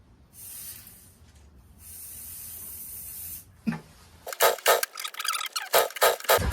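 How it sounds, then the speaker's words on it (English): Starter fluid sprayed into a non-starting Toro CCR2000 snowblower, a series of sharp aerosol hisses in short bursts after a quieter stretch of background noise. "Starter fluid."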